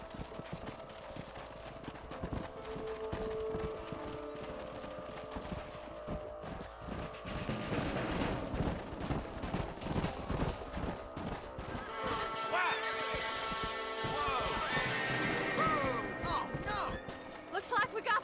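Horses gallop in Red Dead Redemption, a steady clip-clop of hooves with neighs and whinnies, running loud and continuous amid game music and effects.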